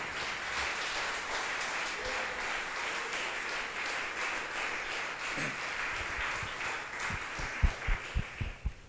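A church congregation applauds together, steady broadband clapping filling the space throughout, with a few louder low thumps near the end as the applause continues.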